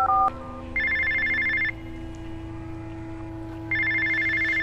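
A phone ringing in Infamous First Light, two bursts of trilling electronic ring separated by a pause, over a low steady game hum.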